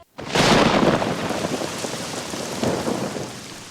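Heavy rain pours steadily with a low rumble of thunder, a sound effect in an Indian agriculture ministry radio ad for crop insurance; the downpour is loud, close and continuous, swelling slightly midway, with no voices.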